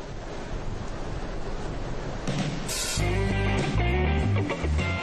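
Strong wind roars steadily by the sea with surf at Essaouira, Morocco, buffeting the microphone; partway through, tonal music rises beneath the gusts.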